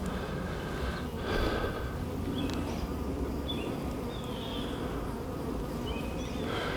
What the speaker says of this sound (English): They've been making a lot of buzzing noises.